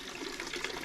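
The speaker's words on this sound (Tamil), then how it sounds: "அண்ட் இங்கே வந்து பியூர் வாட்டர் இப்போ வந்துக்கிட்டு இருக்கு." A small stream of water flows steadily at a hidden waterfall in Amboori village, a continuous close splashing trickle with no talk over it.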